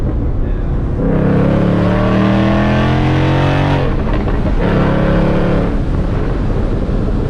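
An 800 hp Whipple-supercharged Mustang accelerates hard, its engine note climbing loud and close through rising harmonics, briefly easing off near the middle before pulling again, with no talk over it.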